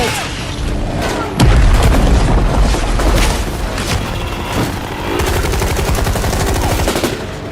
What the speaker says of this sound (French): Lance-roquette.